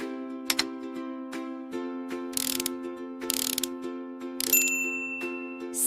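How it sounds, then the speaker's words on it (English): A toy vehicle's chain tensioner being tightened, with bursts of metallic ratcheting clicks and short grinding turns over a steady background tone. "Tighten the chain tensioner."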